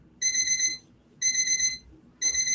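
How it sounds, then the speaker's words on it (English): A kitchen timer alarm sounds in three bursts of high electronic beeping, each about half a second long, separated by short pauses, close and fairly clear over faint room noise in a home kitchen during cookie baking. "Maybe you can hear the timer."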